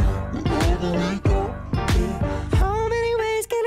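A voice pitch-shifted through the Little AlterBoy plugin with formant and pitch linked, so the character moves with the pitch; a few sustained, tonal phrases sound close and fairly loud with no other sounds behind them.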